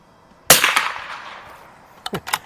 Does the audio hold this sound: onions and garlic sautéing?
no